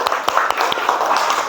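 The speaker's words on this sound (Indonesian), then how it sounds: "tepuk tangan dulu untuk kita semua" A class of students claps together in a classroom, a brief, loud burst of dense applause with sharp individual claps throughout.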